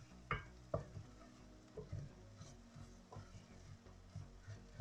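Softened onions frying quietly in a pan for a tinned fish curry, with faint sizzling and a few soft scraping stirs spaced irregularly throughout, close but low in level, with no talk.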